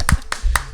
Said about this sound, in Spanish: Oye, un aplauso.